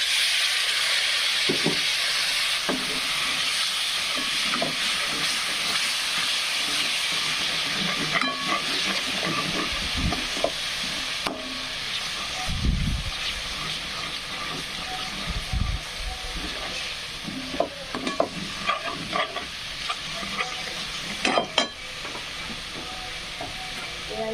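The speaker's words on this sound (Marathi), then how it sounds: "मसाले आपण असं भाजून घ्यायचा थोडं पाणी टाकूता" Spices for mutton rassa roasting in a pan with a little water, a steady hiss and sizzle with occasional stirring scrapes and clinks, close by, with a voice talking over it at times.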